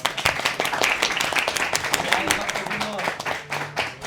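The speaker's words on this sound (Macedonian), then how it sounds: "Ајде еден аплауз за Димо" A crowd at an FC 26 gaming event in Macedonia claps for a player named Dimo, giving quick bursts of scattered applause under loud voices talking and calling out nearby.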